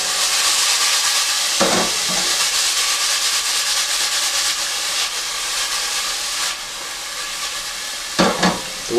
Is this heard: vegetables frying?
yes